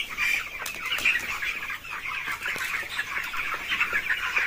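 Many chickens on a poultry farm cluck and chatter continuously in a crowded chorus, steady and moderately loud, with occasional sharper squawks.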